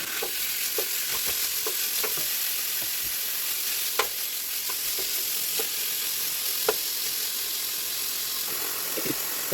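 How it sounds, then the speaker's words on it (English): Chopped stew pork browning in a pan, a continuous even sizzle with occasional clicks and scrapes of stirring, close by, no talking. "We're gonna brown up this stew pork"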